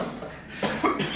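A person coughs after smoking a joint, giving two or three harsh, close coughs in quick succession.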